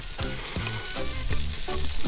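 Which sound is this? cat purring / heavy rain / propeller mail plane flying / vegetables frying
vegetables frying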